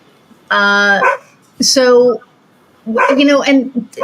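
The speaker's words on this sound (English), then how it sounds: "can you guys hear my dog in the background?" A dog barks in the background at deer outside, several quick bursts of loud, tonal barking and yips separated by short pauses.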